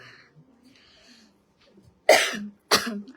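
Two sharp, close coughs in quick succession near the end, after quiet faint murmuring, from a person with a cold.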